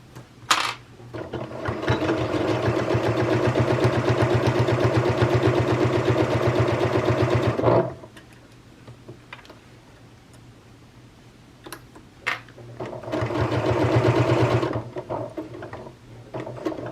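A sewing machine stitches a quilted hot plate in two bursts of rapid, even mechanical ticking, a long run then a pause with small handling sounds, then a second shorter run, close and loud.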